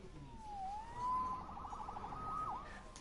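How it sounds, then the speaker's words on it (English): A police siren wails in the distance, its pitch sweeping up and down in faint, rising and falling tones over a quiet background. "Saved by the siren."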